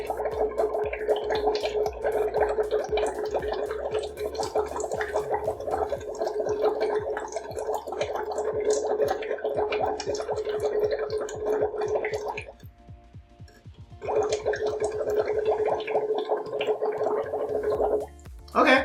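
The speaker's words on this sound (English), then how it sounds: "I'm going to test it by blowing into it and see if it maintains that color" Steady bubbling and gurgling as someone blows into a sample of Italian mineral water, continuous and close, pausing briefly before resuming.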